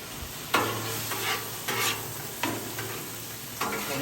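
Beef pasta sauce sizzles on a Blackstone flat-top griddle while a spatula stirs it in four or five distinct scraping sweeps over a low, steady frying hiss, fairly quiet and with no talking.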